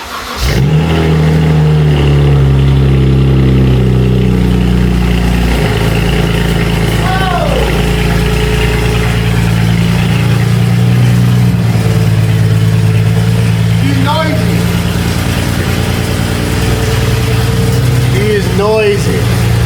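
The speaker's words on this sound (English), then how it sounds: "First cold start of the season." A car's engine cold-starting for the first time in the season after sitting for months, settling into a steady, loud rumbling idle with a few sharp revs rising and falling, while people talk over it.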